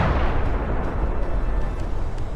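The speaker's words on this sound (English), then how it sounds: "A precise drone strike." A deep, rumbling blast from a drone strike on a village position, with heavy low-end boom and rolling aftermath, distant and muffled, lasting the whole stretch without voices.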